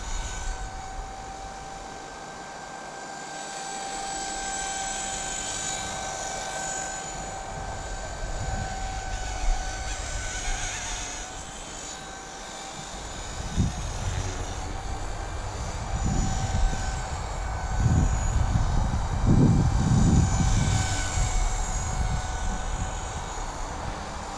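A Blade 250 CFX RC helicopter flies nearby with a steady high-pitched whine and a squealing tail rotor, its motor tone rising and falling, with louder low rumbling bursts toward the end.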